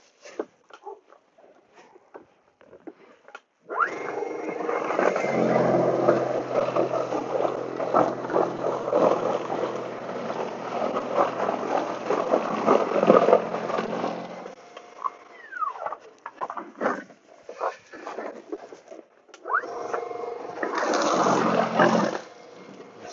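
A Toro Power Clear e21 battery snowblower clears snow across a parking area, its steady whirring churn holding for about ten seconds and then returning in a shorter burst after a quieter pass.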